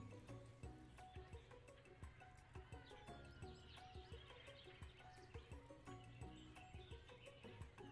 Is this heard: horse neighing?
yes